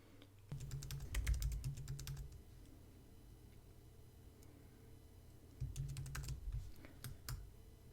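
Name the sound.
typing email address on computer keyboard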